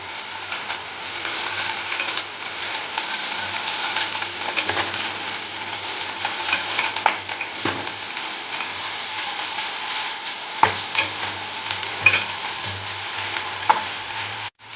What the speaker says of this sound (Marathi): हे आपण आता चांगलं फ्राय करून घेऊ.